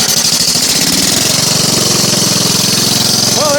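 A Miller Roughneck welder-generator engine cranks with rapid rhythmic chugging, catches and settles into a steady loud knocking run, with a voice briefly heard near the end.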